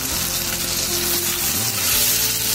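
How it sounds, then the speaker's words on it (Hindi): Jackfruit curry with garam masala powder fries in a pan over low-medium heat, giving a steady, close broadband sizzle throughout with faint stirring scrapes and no talking. "और इसे लो मीडियम टेम्परेचर पर 3 से 4 मिनट तक हम लोग फ्राई करेंगे।"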